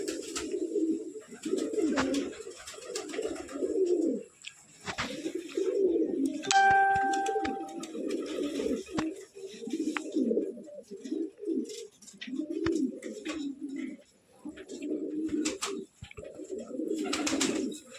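Pigeons coo in low, throaty, rolling phrases, several birds overlapping almost continuously nearby, with a brief ringing tone partway through.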